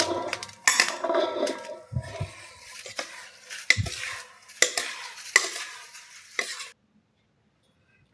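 Spice mixture is added to mango pickle and stirred in a bowl, giving close scraping, clinking and wet mixing sounds in irregular bursts before stopping into silence near the end.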